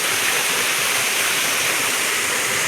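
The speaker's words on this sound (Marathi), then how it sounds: "आपल्याला धबधब्याचा आवाज ऐकू येतच असाल" A nearby waterfall below a rocky path, a steady, loud broadband roar of falling water that fills the whole clip without a break and with no voices.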